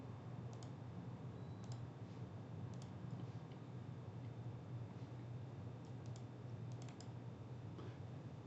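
Faint, scattered clicks of a computer mouse come at irregular intervals over a steady low background hum, quiet and close, with no talking.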